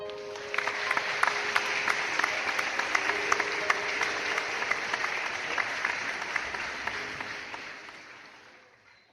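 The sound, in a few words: audience applause for GED graduates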